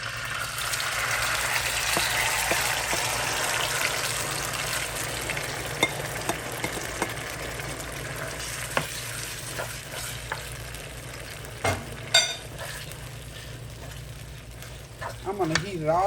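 Leftover curry chicken fries in a hot pan with a steady broad sizzle throughout, broken by occasional clicks and scrapes of stirring and a few louder knocks near the end.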